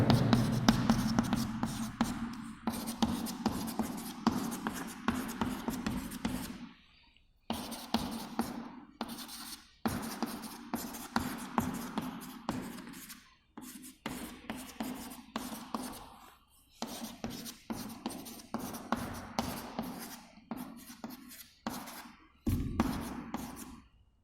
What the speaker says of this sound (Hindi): मैं आपको लिख देता हूं यहां पे